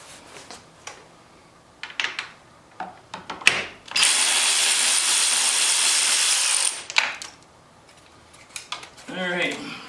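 Bolts on a 2016 Tri Glide motorcycle's narrow handlebar being worked loose, with scattered ratchet clicks and knocks, then a steady loud power-tool whir for about three seconds, followed by more clicks and a brief voice.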